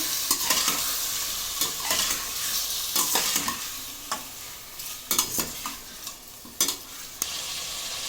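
Rice with turmeric being stirred in a pot, a spoon scraping and knocking in irregular bursts over a soft sizzle, close and fairly quiet with no talking.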